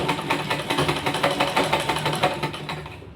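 A sewing machine stitches a hook piece onto a blouse in a fast, even run of mechanical pulses that stays close and constant, then stops abruptly at the end.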